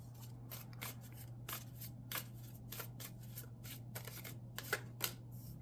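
A deck of cardology cards is shuffled by hand close by in quick, quiet riffling bursts that repeat in an uneven rhythm over a steady low hum.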